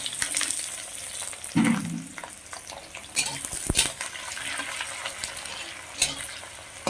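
Onions frying in oil with panch phoron spices for a samosa filling sizzle steadily as a spoon stirs and scrapes the pan, with occasional clinks and no one speaking.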